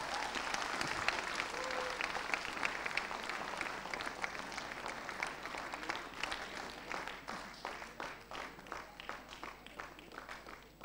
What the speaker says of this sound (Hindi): आपकी तालियां काम आ गई हैं।